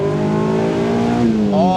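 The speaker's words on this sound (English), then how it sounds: "put a rowdy exhaust on it and a new tune to give it some burbles" Mazda MX-5 NC four-cylinder with an aftermarket exhaust and tune, a loud steady engine drone close by that shifts pitch toward the end as revs change.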